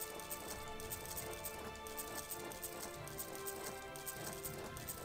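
Horse hooves clip-clop in a fast, regular rhythm within the Europa Universalis IV video game, steady and moderately loud over a dense musical background.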